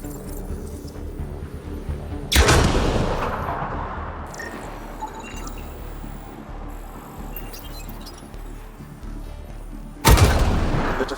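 Sci-fi weapon fire and explosive blasts in the Mass Effect Andromeda video game, two sharp heavy booms several seconds apart with a rumbling combat din between them.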